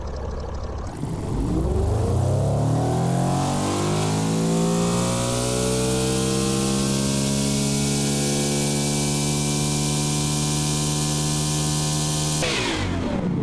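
Engine of a 1990s GT car in BeamNG with 622 horsepower and a 9,300 rpm limit, revving: a loud, close roar that climbs steadily in pitch, holds high and screaming, then drops off sharply at the end, with no talk.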